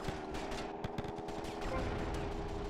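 Gunfire at enemies in GTA Vice City from an aircraft, rapid bursts of shots crackling over a steady engine drone, fairly quiet and continuous.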